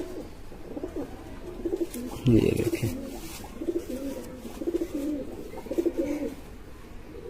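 Pigeons coo in repeated low, throaty phrases, several overlapping nearby, with a brief spoken remark at the start.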